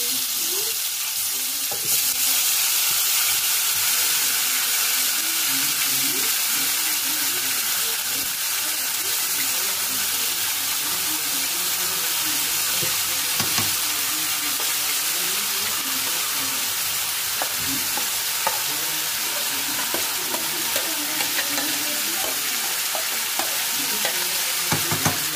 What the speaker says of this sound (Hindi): तो यहाँ पे तेल हो गया है गरम और इसमें हम डालेंगे जीरा, डालेंगे अपने धीरे धीरे करके आलू।